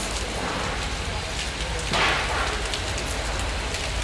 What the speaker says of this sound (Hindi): यहाँ बारिश आ गई है